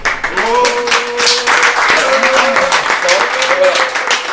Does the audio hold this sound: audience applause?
yes